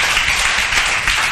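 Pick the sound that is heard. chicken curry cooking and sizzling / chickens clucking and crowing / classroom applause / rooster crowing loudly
classroom applause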